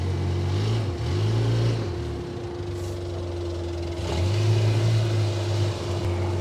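A damaged Polaris Ranger 800 AWD side-by-side pulls away with its engine droning steadily and loudly up close. The pitch dips and climbs as the throttle changes, and there is no speech.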